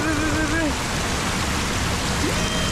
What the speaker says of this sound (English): The first waterfall of the list.